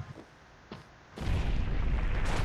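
Loud, sustained explosion roar in the Owlboy video game at a pirate hideout, preceded by a couple of faint softer thumps, then a dense rumbling blast that holds steady to the end.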